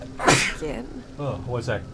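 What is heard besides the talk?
sneeze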